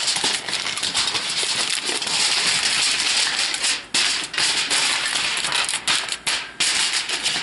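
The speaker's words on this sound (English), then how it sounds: "In the oven, aluminum foil, just gently push it down into the cracks." Aluminum foil being gently pressed down into the gaps of a pan, a continuous close crinkling and crackling with irregular taps and rubs, loud throughout.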